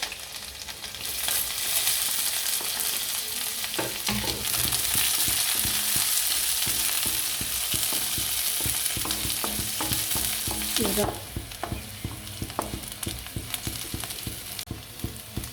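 Onion, fenugreek, cumin and chili fry in hot oil for a raw banana curry, a loud continuous sizzle with a sharp surge near the start and rhythmic stirring and scraping throughout, dropping to softer frying near the end.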